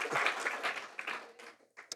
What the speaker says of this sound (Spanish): Denle un fuerte aplauso al Señor ahí